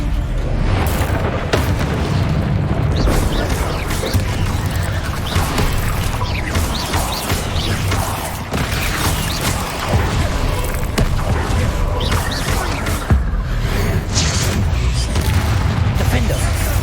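Incendio fire spells and other magic blasting in Hogwarts Legacy during a fight with Ranrok and Rookwood: dense, continuous booms and crashing impacts, loud and layered throughout, with a player calling out spell names over the din.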